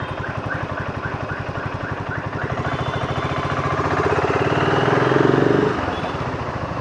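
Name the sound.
BSA Goldstar 650 motorcycle engine while riding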